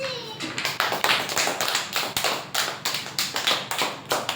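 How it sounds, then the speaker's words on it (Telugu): Children in a drawing lesson clap together in a quick, even run of sharp claps that carries on steadily for several seconds, close and fairly loud. "వెరీ గుడ్ పిల్లలు. క్లాప్స్."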